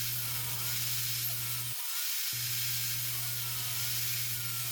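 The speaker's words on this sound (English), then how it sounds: "here I'm just cutting the maple planks that I had made down to size" A power saw whirs steadily as it cuts maple planks to size. A low motor hum cuts out briefly partway through, then resumes under a constant bright cutting hiss.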